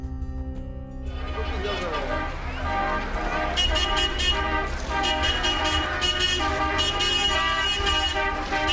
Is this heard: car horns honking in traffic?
yes